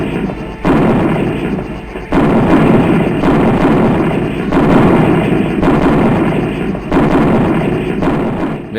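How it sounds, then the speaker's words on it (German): Gunfire and explosions from the 1993 helicopter combat video game Comanche roar in heavy, sustained bursts. Loud, dense booming waves swell and break every second or two with almost no pause between them. "die schießen auf mich"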